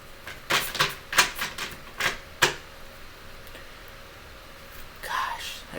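Tarot cards being shuffled by hand, a run of quick crisp riffling bursts in fast succession, close and moderately loud, then a pause and one more short shuffle.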